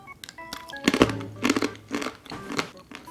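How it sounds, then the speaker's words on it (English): A roasted Yeheb nut is bitten and chewed, giving four or five loud, close crunches spaced about half a second apart, with no talking over them. "first let's try a roasted Yeheb nut"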